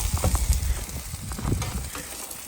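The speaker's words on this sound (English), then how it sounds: "Onions, broccoli, potatoes, mushrooms. Caramelization in progress." Onions, broccoli, potatoes and mushrooms caramelizing on a wood-fired Kudu grill outdoors: close, loud, continuous sizzling and crackling with scattered pops, heard alone without talk.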